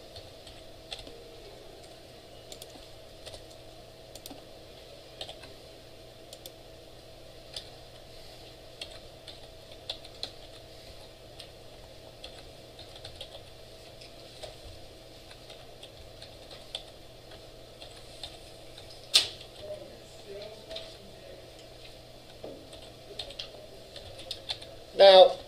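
Typing on a computer keyboard during a web development lecture: faint, irregular key clicks in scattered bursts over quiet room tone, with a few louder knocks near the end.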